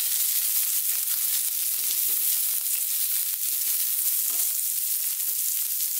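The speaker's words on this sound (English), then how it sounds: "Then we're going to go in with" Onions sizzle and hiss steadily in a wok on maximum heat while cooking for sweet and sour pork. A loud, continuous frying roar runs throughout, with faint scrapes and stirring taps beneath it and no talk.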